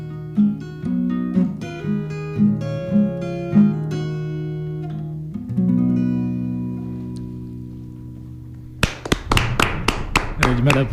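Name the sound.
person clapping hands in a radio studio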